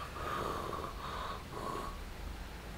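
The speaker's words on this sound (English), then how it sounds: "Can you hear me breathing?" Heavy, rasping breaths repeat in slow, even cycles, close and fairly loud, with no talking.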